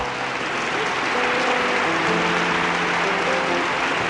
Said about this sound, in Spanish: Un aplauso a Papá Dios, quien se lo merece.